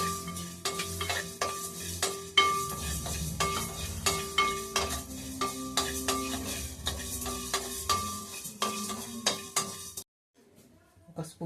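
Cumin, mustard seeds, cloves, cardamom and cinnamon crackle and sizzle in hot oil for prawn pickle, with steady stirring and sharp ladle clinks against the pan, then sudden quiet at the end.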